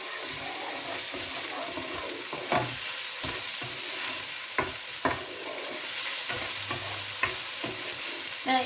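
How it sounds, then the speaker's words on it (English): Chopped small red onion sizzles loudly in a frying pan for a chickpea curry, a steady close hiss broken by scraping knocks of a utensil as it is stirred. "And listen to that sizzle."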